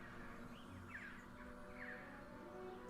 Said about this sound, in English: so that's why you can hear my cockatiel